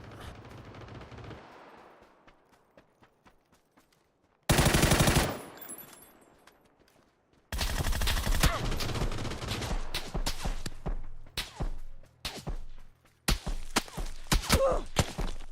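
Loud bursts of automatic gunfire from a PUBG match on console, rapid sustained volleys broken by short gaps and single sharp shots, with a brief lull before heavy firing resumes close by.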